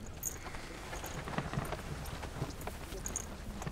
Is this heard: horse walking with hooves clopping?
yes